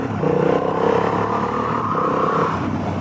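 The engine of a Honda CB750 Hornet motorcycle revs and drones while riding, with quick throttle swells and blips on downshifts, close and steady with a gritty mechanical clatter underneath.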